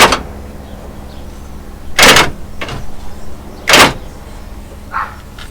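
Power door locks on a Mitsubishi Montero actuate in sharp, loud mechanical clunks, two strong bursts with a fainter click between and a small click after, close up over a low steady hum.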